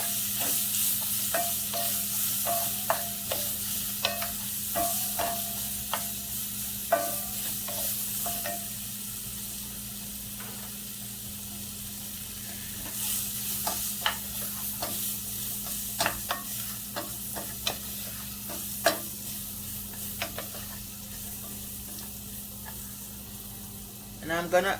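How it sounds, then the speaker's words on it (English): Scallion and onion sizzling in a pot of curry goat, a steady hiss of frying under occasional stirring clinks and scrapes, with a low hum beneath and a person talking at times. "So I'm just gonna add some scallion to it. Scallion and onion."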